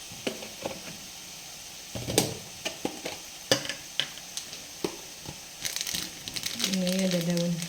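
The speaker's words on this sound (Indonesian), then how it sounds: "Ditumis." Vegetables and meat sautéed in a pan, a utensil scraping and stirring in irregular clatters over a soft sizzle, with a brief voice near the end.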